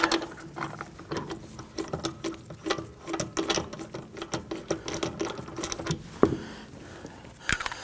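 A hand ratchet spins rear sway bar link bolts on a 2001–2009 Volvo S60, producing quick, irregular bursts of close, sharp clicking with brief pauses between strokes.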